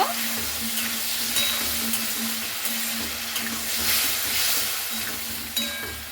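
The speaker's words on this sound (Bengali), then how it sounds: "মশলাটা দিয়ে খুব ভালো করে এগুলোকে আমি কষিয়ে নেব।" A ground spice paste is stir-fried in a pan with Malabar spinach (pui shaak) dish ingredients, giving a constant loud sizzle with rhythmic stirring scrapes close by and a steady low hum underneath, with no speech.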